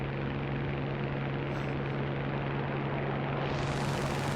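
Hawker Typhoon Mk 1b fighter in War Thunder, its piston engine droning steadily with a strong low hum under wind rush, the tone rising in pitch toward the end as the throttle is pushed up during a dive.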